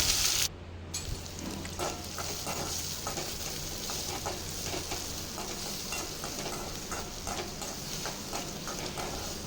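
Chopped onions sauté in hot oil with mustard seeds and fennel for a tomato thokku, giving a constant close sizzle with faint stirring scrapes throughout.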